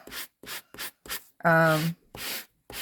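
Repeated rasping strokes of a sanding block scrubbing across paper, about seven short bursts in a steady rhythm with brief pauses between.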